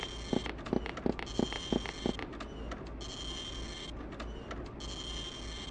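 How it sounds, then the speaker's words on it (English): A looped printer printing sound in the background of a sewer level in a video game, giving a series of sharp rhythmic mechanical clacks followed by a continuous whirring hum that cuts in and out. "take this 5-second loop of a printer printing"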